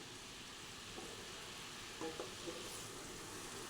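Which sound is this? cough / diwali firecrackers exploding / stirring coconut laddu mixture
stirring coconut laddu mixture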